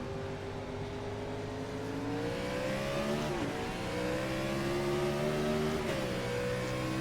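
Stock-car engines in the iRacing DDP Series Gen 4 race at New Hampshire build on a restart. It is a loud, continuous droning howl that climbs in pitch and briefly dips twice as the cars shift and surge together.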